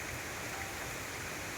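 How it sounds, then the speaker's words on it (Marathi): Steady rain pouring on a mountain trekking trail toward Bhimashankar, a dense unbroken hiss that holds even and unchanging throughout, fairly soft and with no voices over it. "चला मग पाऊस आला आहे"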